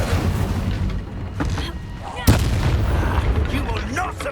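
An Incendio fire spell bursts with a sudden loud blast midway through a Hogwarts Legacy battle, over rumbling combat noise and a voice speaking.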